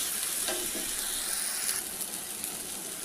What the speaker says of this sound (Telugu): అప్పటి వరకు మనం 2 మినిట్స్ ఫ్రై చేసుకోవాలి.